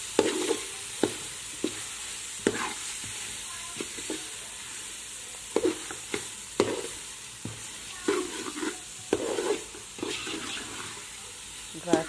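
A spoon stirs mixed dry fruits into carrot halwa in a pan, giving soft scraping sweeps and intermittent knocks against the metal over a faint steady hiss, with no talking.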